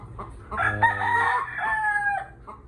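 A gamefowl rooster crows on a backyard game farm, one long, loud, close cock-a-doodle-doo held for about two seconds and then trailing off.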